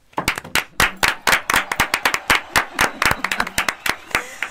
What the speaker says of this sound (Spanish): un aplauso para la mujer vaciada.